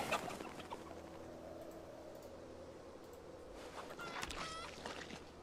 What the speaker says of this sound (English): Oh, there's two roosters in here.